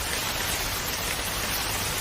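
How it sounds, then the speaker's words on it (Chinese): Steady, dense hiss of rain pouring down, constant and fairly loud throughout with no voices. "哎呀，下雨了，怎么办？"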